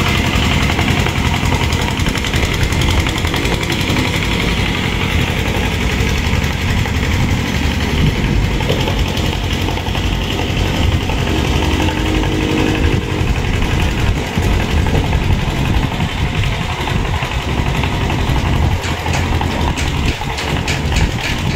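A borrowed farm engine runs steadily in a rice paddy, a loud continuous mechanical drone with no pauses throughout.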